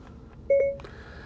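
Short two-tone electronic chime from the voice-command button on a 2022 Jeep Wagoneer Series III infotainment system, clear and near, heard alone over faint cabin hum.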